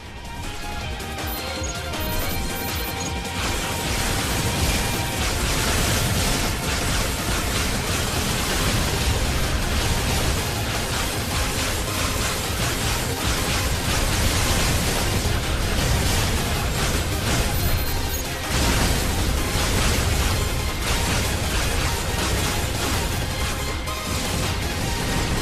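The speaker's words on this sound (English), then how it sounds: "Explosions, blast and boom, and the slash of the blade is sharp." Explosions, blasts and sharp blade slashes from the anime-style space-robot shooter Astebreed, a dense, continuous loud barrage of booms and crashes layered over each other for the whole stretch, with no talk.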